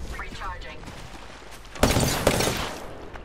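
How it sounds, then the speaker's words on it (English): Video game shootout gunfire bursts in at once: rapid, loud volleys of shots follow a quieter stretch, with a second sharp burst shortly after and speech-like game sounds mixed in. "Taking fire. Shooting."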